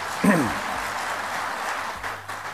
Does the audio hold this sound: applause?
yes